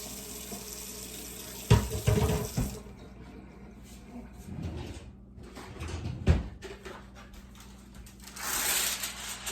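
Water splashes and pours in short bursts into the bottom of a baking dish holding butternut squash casserole, with clattering handling noises between pours, close by and moderately loud.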